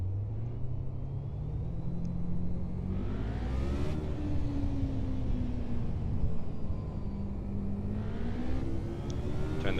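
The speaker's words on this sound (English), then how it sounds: "I'll let you listen to the sounds of the car, and we'll see what this thing does." Race car engine in a racing video game on a qualifying lap, droning steadily and rising and falling in pitch through upshifts and revs, loud and continuous with no talk.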